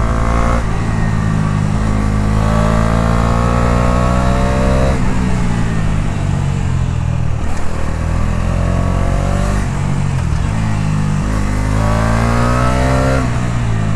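A Bajaj Dominar 250 motorcycle engine rumbles loudly and continuously, the exhaust rising and falling as it revs, close by with no talking.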